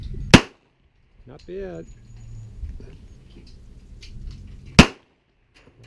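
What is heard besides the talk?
Smith & Wesson 1911SC pistol shots at range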